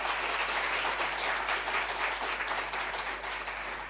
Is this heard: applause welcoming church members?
yes